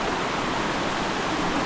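Water flowing at Bolaw cold spring, a steady dense rush of running water close by with no break and no voices.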